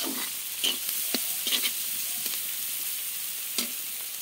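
Carrots, cabbage, onion and chilli for homemade chow mein frying in a pan, a steady soft sizzle with a few sharp stirring scrapes scattered throughout, close by and alone.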